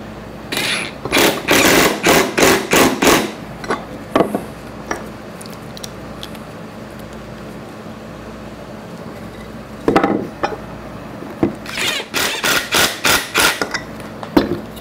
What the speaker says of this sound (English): Now I have my socket here, put it on my torque gun,